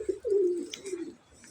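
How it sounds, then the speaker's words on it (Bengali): A pet pigeon at its home coop gives a single soft, low coo that swells and trails off, close by, with no voices. "সো এটা হইল আমাদের কবুতরের বাসা।"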